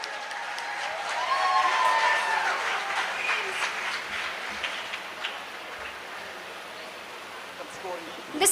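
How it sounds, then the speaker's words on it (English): An audience at a physiotherapy conference applauds in a steady, moderately loud wash of clapping that slowly fades over several seconds, with a few voices underneath. "Please give them a round of applause,"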